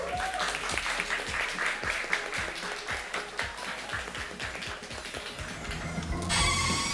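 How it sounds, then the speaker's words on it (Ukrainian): Sustained audience applause fills the hall at a barista championship final, dense steady clapping with scattered louder hand slaps, swelling slightly toward the end, with voices faintly mixed in. "Оплески!"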